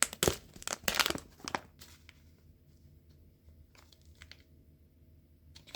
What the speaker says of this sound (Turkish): Paketi açıyorum.